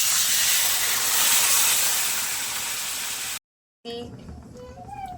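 Water poured into a hot pan of tomato and potato throws up a loud, broad steamy hiss that slowly fades and cuts off, followed by a short silence and then a voice talking.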